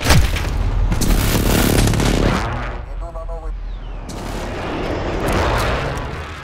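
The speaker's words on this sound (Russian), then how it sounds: "Авиаудар противника в укрытие." Heavy booming explosions from an enemy airstrike in Call of Duty: Modern Warfare multiplayer roll on continuously, loud and dense, with a brief lull mid-way before more blasts, and a voice briefly heard.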